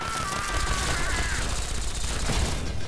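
Automated turrets in Fallout 3 fire rapid, continuous bursts for about three seconds. The chattering shots sit at a steady level over a faint mechanical whine.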